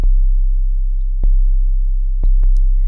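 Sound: single oscillator tone of Reason Complex-1 modular synthesizer

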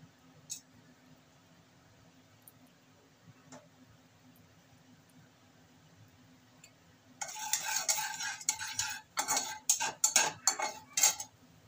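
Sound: whole cumin, cloves, cardamom, cinnamon tempered in hot oil

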